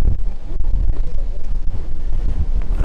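Strong wind buffets a microphone outdoors at a fishing competition weigh-in, a loud, continuous low roar and rumble filling the whole stretch with no voices.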